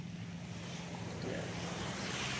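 Steady rushing wash of sea waves on a shore, with a low hum and breezy hiss throughout and no voices.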